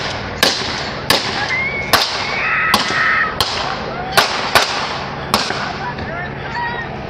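Sharp, loud bangs of gunfire during a police shootout, about nine sudden cracks scattered irregularly over several seconds, with street noise and voices in between.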